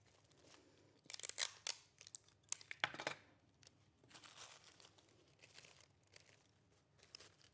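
Sticky tape pulled and pressed onto pieces of a paper poppy, with several sharp crinkling tears and rustles clustered early, then softer intermittent paper handling, close and quiet without speech.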